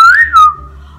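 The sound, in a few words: person imitating a whistle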